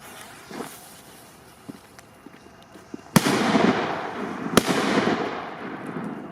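Faint pops and crackles lead into two loud, sharp firecracker blasts about a second apart, each followed by a lingering rumble and debris noise.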